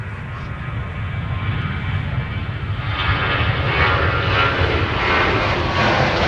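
A jet airliner passes at Minneapolis–Saint Paul airport, a loud, steady broadband engine roar that swells slightly as it goes by, with no voices over it.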